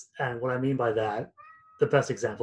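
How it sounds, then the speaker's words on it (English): A cat meows in the background of a home office, a clear sustained meow heard twice while someone talks over it. "I also apologize if you hear my cat in the background"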